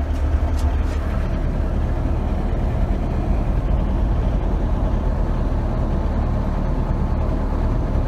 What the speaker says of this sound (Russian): Приехал другой трактор, куновский наш.